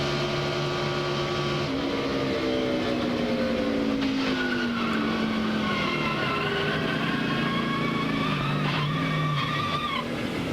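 A stock race car spins and skids during a crash at the 2002 Tropicana Twister 300, its engine note sliding down in pitch over tire scrub and skidding noise. Crowd-like roar fills the background, with no talk.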